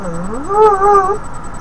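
A single cat meow, rising then falling in a short, clear wail up close, with quiet background hum.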